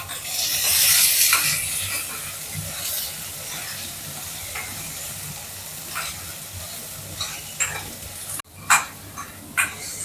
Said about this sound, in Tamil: இப்போ இதில் வெண்டைக்காயும் போட்டு வதக்குனா அந்த கொழப்பு இருக்காது.